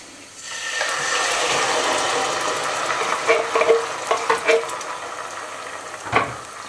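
Peeled tomatoes going into a frying pan for a seafood spaghetti sauce, with a steady hiss followed by a run of clicking, scraping stirs and a final knock.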